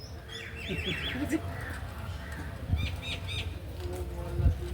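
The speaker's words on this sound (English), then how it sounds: "It's called Mina, M-Y-N-A. They're birds you can teach to talk better than parrots." Myna birds in Vrindavan give bright, repeated chirps and whistles, with wing flaps and nearby human voices around them.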